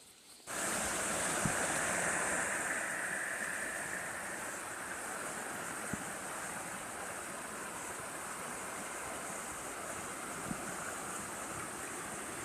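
Along a hiking trail beside Dismal Creek, rushing water makes a steady broadband hiss. It starts abruptly after a brief quiet moment and continues unbroken, with a few faint clicks over the top.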